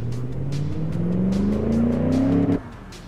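A car engine in the game Automation, a 220 kg motor, revs upward in a smooth rising drone, building steadily for over two seconds before cutting off abruptly to a lower idle.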